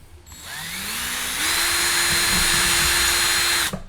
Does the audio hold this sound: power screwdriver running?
yes